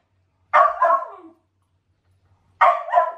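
A dog barks indoors, two short loud bursts of barking and yipping separated by a pause of about a second, close by with no talk over it.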